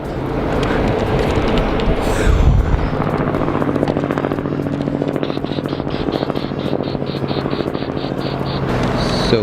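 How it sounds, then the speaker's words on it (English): A helicopter passes over a windy waterside spot with ferry and boat traffic nearby, its steady rotor drone loud and continuous beneath heavy gusting wind noise for the whole stretch. "Here comes a little bit of helicopter."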